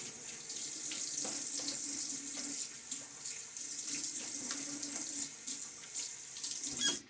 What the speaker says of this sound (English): All right, so do a little bit of rinsing here.